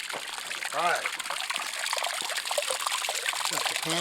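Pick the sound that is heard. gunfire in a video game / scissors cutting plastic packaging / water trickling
water trickling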